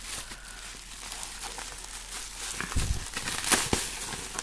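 Close crinkling and rustling of paper and plastic packaging being unwrapped from a cardboard box of scrapbooking supplies, with a few sharper tearing and crunching bursts near the end.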